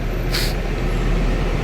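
A bus about to board passengers for an airport transfer lets out a single short hiss from its air brakes over a steady low engine rumble.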